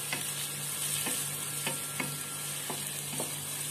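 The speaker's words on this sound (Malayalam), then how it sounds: "എന്നിട്ട് അതിലേക്ക് സവാള ഇട്ടിട്ട് നല്ലപോലെ വരട്ടിയെടുക്കുക." Onions sautéing in oil for Hyderabadi beef dum biryani, a soft continuous sizzle broken by several sharp scrapes and clinks of a spoon stirring the pan at an uneven rhythm.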